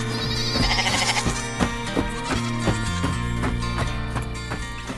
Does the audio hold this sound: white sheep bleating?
yes